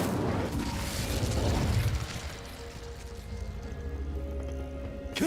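Incendio fire spell cast in the Hogwarts Legacy video game, a loud whooshing, crackling burst of flame for about two seconds, then fading into a quieter rumbling and humming background.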